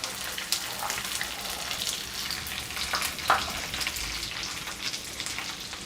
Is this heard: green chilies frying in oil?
yes